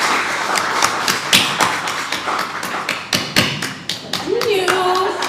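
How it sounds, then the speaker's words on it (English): An audience at a tourism awards launch event clapping as a speaker comes up on stage, a run of sharp, separate claps that go on through the whole stretch, close and fairly loud. "Let's give him a round of applause as he comes up"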